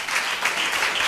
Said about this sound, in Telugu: చప్పట్లు కొడదామా ఒకసారి